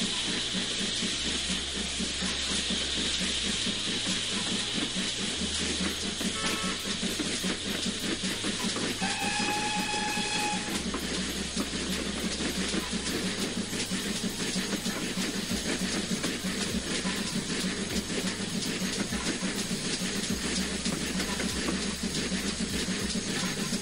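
Steam train running in the Train Sim 20 game during a steam gala, with a steady chuffing and rumbling rail roll throughout and a brief whistle partway through, even and moderately loud with no voices.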